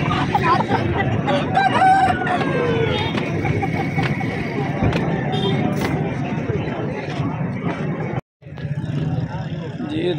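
Chickens cluck and a rooster crows amid the steady hubbub of a busy poultry market trading Aseel birds, with people talking throughout and occasional traffic noise nearby.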